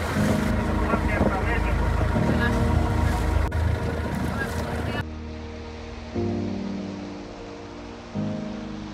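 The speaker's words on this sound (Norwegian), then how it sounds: "Så tar vi den charmerende lille båten tilbake igjen til Valtos stranda." A small charming boat carries passengers back toward Valtos beach near Parga, Greece, with engine rumble and wind-blown wave noise filling the ride, the motor tone shifting partway through as the hull churns on.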